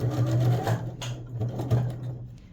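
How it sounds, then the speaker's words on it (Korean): A sewing machine stitches a tailored jacket collar, its motor humming with a fast, even stitching rattle throughout, close by and fairly loud. "그 위치까지 재봉틀로 박음질 하겠습니다"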